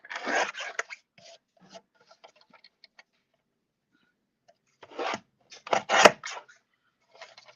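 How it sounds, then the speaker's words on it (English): Stamping foam being trimmed to size with a blade, in short bursts of rasping, scraping cuts and small ticks separated by quiet pauses, close and fairly faint. "I'm going to trim this down to 2 3/4."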